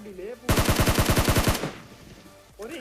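Automatic gunfire in PUBG Mobile aimed at a distant enemy, a rapid burst of about ten loud shots lasting roughly a second, with a voice briefly heard before and after.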